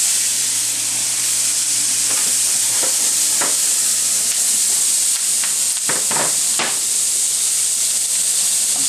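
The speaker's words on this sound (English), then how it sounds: "these onions are going to take about 3 minutes or so to saute up" Onions sauté in a pan deglazed with beef stock, a steady close sizzle with soft hiss and a few scraping stir sounds midway.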